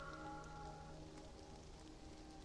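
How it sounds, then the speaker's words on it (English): Steady rain pattering on surfaces in the video game Love and Deepspace, a soft continuous hiss under a faint, sustained musical tone, with no one speaking. "I hook my arm around his and we step out into the rain together."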